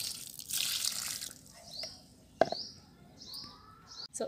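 Water poured onto potted jasmine plants, a soft splashing gush early on followed by quieter trickles and drips, with birds chirping faintly in the background.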